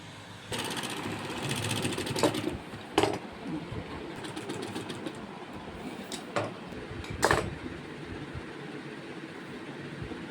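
Sewing machine stitching a joint in a blouse sleeve, a steady close mechanical whir running through most of the clip, with a few short sharper bursts and brief pauses, no talk.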